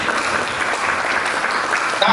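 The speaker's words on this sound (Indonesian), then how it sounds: "Mari kita berikan tepuk tangan bagi Yesus." A church congregation claps in steady, dense applause that fills the room throughout, moderately loud and close, with no speech over it.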